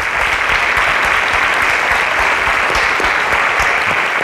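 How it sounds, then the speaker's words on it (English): A conference audience at a live-streamed event gives a dense, steady round of applause for presenters leaving the stage, loud and unbroken clapping throughout. "A round of applause for them as they exit the stage."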